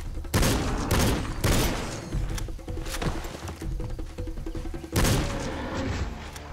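Hunting rifle shots in Cabela's Dangerous Hunts 2013, loud close reports at the start and again near the end, with thuds and smaller bangs in between over game ambience.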